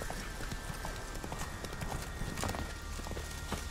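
A horse's hooves clip-clop steadily at a walking pace in The Witcher 3 video game, a clear, evenly rhythmic stream of light hoofbeats over soft background game ambience.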